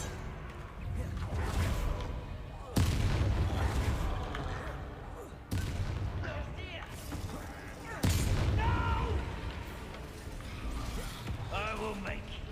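Spell explosions and combat from a wizarding action video game, with heavy booming blasts, whooshes and impacts arriving in bursts that each drop sharply and then trail off, under a continuous bed of game noise.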